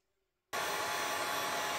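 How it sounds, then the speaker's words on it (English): Heat gun blowing hot air to shrink heat shrink tubing over trailer winch remote wiring; a loud, steady broadband whoosh starts abruptly after a short silence and holds at constant level to the end. "And then we'll do some heat shrink on this as well."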